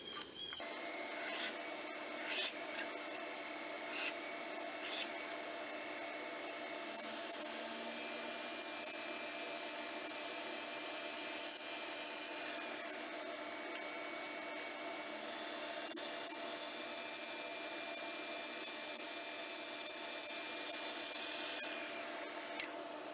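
Pin holes being drilled and cleaned up in the handle of a sheepsfoot EDC knife: a few sharp taps, then two long, steady stretches of rasping, whirring work, each several seconds, close and fairly quiet, with no talking.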